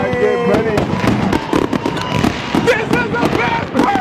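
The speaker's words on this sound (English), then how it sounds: "We got fireworks in the backyard!" Fireworks bursting in a backyard at a birthday celebration, a dense run of loud cracking pops and bangs over about four seconds, with excited voices and cheering mixed throughout.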